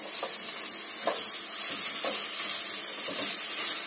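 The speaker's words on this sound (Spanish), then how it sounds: "Y vamos a sofreírlos por 1 minuto o 2 más." Nopales (cactus paddles) fry in a pan, a loud continuous sizzle with soft periodic scrapes and clacks as they are stirred, close up and without talk.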